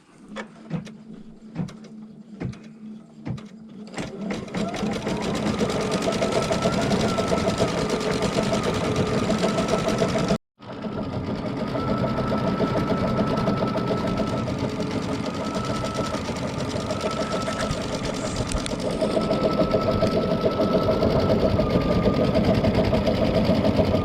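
A computerized embroidery sewing machine quilts fabric held in a hoop, starting with a few separate clicks and thumps before settling into a steady, fast, loud mechanical stitching rhythm with one brief pause midway.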